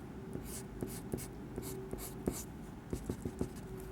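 A pen drawing on paper, giving close, quiet scratchy strokes with irregular taps and scrapes over a steady low hum, no talking.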